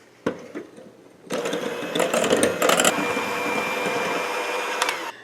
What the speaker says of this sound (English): I'm going to take my hand mixer here and I'm going to mix this until I get soft peaks.